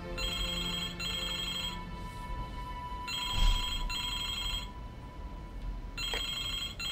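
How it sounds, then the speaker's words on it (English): In the Broken Sword 2 PC game, a telephone rings in repeated electronic double trills with short gaps between them, clear and moderately loud over a quiet background with a soft thump midway. "Excuse me, the telephone."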